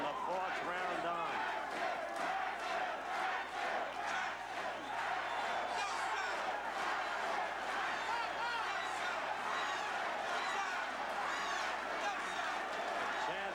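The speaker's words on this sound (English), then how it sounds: "Chants of the crowd speak for themselves." A boxing crowd at a world light heavyweight title fight chants steadily and loudly, a rhythmic roar of many voices throughout, with a commentator's voice under it.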